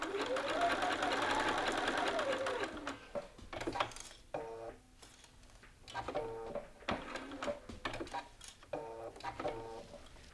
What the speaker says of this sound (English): we're going to sew using our 1/2 inch seam allowance